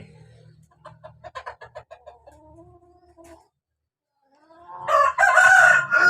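A rooster crows loudly and close by in a backyard garden, with clucking chicken sounds before it and a quiet gap in between.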